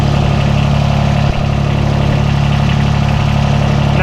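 A GVF Orbit Lift machine's engine idles steadily, ready for towing behind a pickup truck, with a loud, constant low rumble and hum close by and no voices over it.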